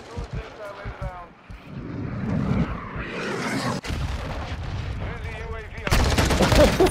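Full-auto Deagle hip-fired in Modern Warfare 2: rapid bursts of sharp gunshots with brief pauses and a dense loud volley near the end, over game noise, with someone talking over the shooting.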